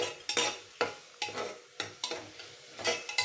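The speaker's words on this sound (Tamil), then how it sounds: "இது வதங்கிட்டு இருக்கும்போதே" Tomato and curry leaves sautéing in a pan, with quick stirring scrapes recurring about every half second over a soft sizzle, close and moderately loud, no talk.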